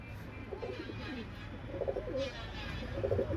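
A male pigeon coos softly in repeated low, throaty phrases against a faint background hum.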